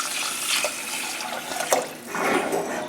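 Tap water runs and splashes into a cooking pot for brown rice in a home kitchen, a steady liquid rush with a few louder gurgles and clinks, heard alone.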